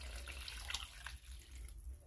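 Hot water runs quietly from a kitchen faucet in a steady, soft stream for about two seconds.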